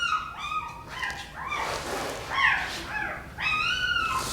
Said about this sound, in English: puppies are not happy